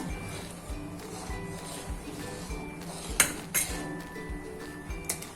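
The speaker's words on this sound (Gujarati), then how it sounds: "આપણે આને ધીમે ધીમે આપણે નાખતા જઈશું અને ચમચા વડે હલાવતા જઈશું" A spoon stirs milk pudding (doodh pak) in a pot, giving soft scraping and a few bright metallic clinks against the pot's side. The sounds are close and fairly quiet, with a steady low background underneath.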